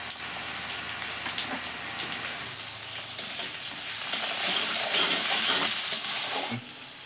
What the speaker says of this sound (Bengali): তেলের মধ্যে এবার আমি পেঁয়াজ কুচি দিয়ে দেব